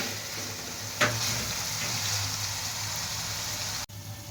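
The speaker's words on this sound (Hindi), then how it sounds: "हमारा गोश्त बहुत ही अच्छी तरह जो है अदरक लहसुन के पेस्ट में फ्राई हो रहा है" Meat frying in ginger garlic paste sizzles softly and steadily, with a brief stir or scrape near the start and a sharp click toward the end.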